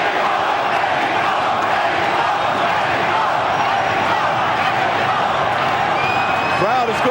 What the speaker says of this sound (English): Crowd is going crazy, cheering for Arce.